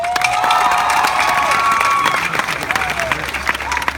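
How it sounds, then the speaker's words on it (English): A high school graduation crowd applauds and cheers, a loud mix of clapping, whoops and raised voices, with a whistle-like tone sliding across the first half. "let's give one last round of applause"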